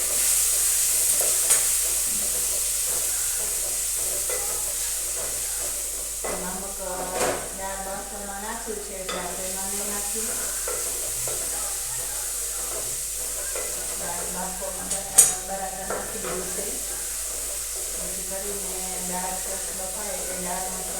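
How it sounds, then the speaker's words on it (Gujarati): Khichdi with tomato, chilli and oil tempering is stirred in a cooking pot, making a soft steady sizzle with occasional scrapes and one sharp knock, while a voice is heard faintly in the background. "આપણે તેમાં સારી હલાવી લેશું"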